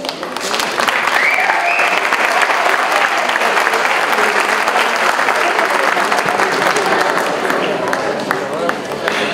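Strong applause welcoming a speaker at a university event, loud sustained clapping from a big audience lasting several seconds, with faint voices and cheers mixed into the crowd noise.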